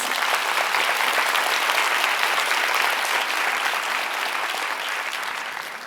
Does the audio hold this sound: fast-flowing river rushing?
no